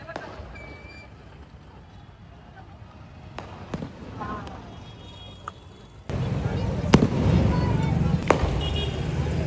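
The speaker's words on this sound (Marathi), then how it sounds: "ते आता मोठा फटाका आला" Firecrackers at a Shivjayanti procession in Satara: scattered sharp bangs over crowd noise, then a louder stretch with a big burst and more cracks close by.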